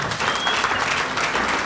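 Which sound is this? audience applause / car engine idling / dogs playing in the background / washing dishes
audience applause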